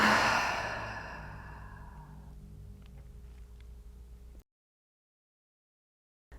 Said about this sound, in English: And exhale completely.